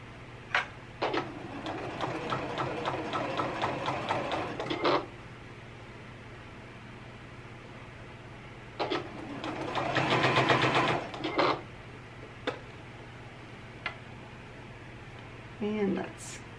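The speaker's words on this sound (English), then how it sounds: "you got to sew the other side of this channeling down" Home sewing machine stitching down bra channeling, running in two steady bursts of rapid, even needle clatter separated by a quiet pause, with a soft hum underneath.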